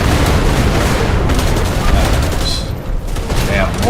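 Mortar shells burst in Helldivers 2, a loud, continuous barrage of overlapping explosions and deep rumbling impacts that eases slightly near the end.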